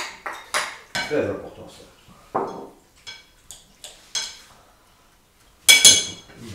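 Utensils scrape and clink against a bowl while a homemade mixed salad is tossed, coming as a series of separate knocks and clatters with short pauses and a louder final rattle, with a person briefly speaking.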